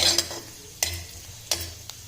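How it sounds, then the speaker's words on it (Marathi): Cumin seeds dry roasting in a pan, a faint rustle broken by three or four sharp stirring scrapes spaced through the moment. "जिरं पण भाजून घ्यायचं आहे थोडं"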